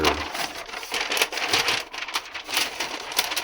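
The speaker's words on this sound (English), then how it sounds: "All right, butcher's paper." Butcher's paper crinkles and rustles in a woodworking shop as it is unrolled and handled, a continuous close crackling with irregular louder crumples and no talking.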